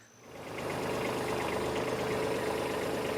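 A Kubota B2601 small tractor engine runs steadily and close by while grading dirt, rising quickly from a quiet start into a constant rumbling drone with a faint rhythmic knock.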